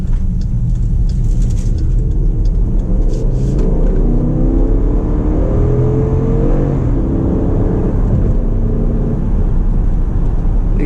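The 5.7L Hemi V8 of a 2019 Jeep Grand Cherokee Overland in sport mode accelerates at part throttle, heard from the cabin as a steady, rising engine drone over road rumble and wind noise, with the pitch climbing through the gears.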